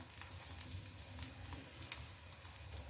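Oil sizzling steadily around a dhapate flatbread frying in a pan, a close, continuous crackle with tiny pops, fairly faint.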